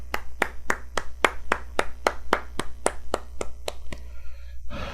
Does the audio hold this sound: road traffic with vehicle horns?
no